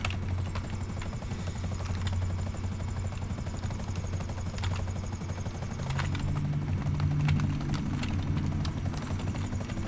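A helicopter in GTA 5 Online flies through snowy fog with a continuous loud rotor chop and engine drone, steady throughout, with no voices over it.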